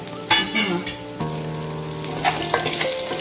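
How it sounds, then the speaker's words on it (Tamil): Onion, dried red chili and ginger fry in a pan with a loud, continuous close sizzle. Occasional stirring scrapes and clinks sit on top of the sizzle. "அந்த வெங்காயம் நல்லா ஃப்ரை ஆகும்"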